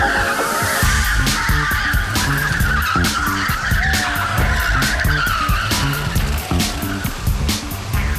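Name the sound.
race cars at Sentosa 24-hour race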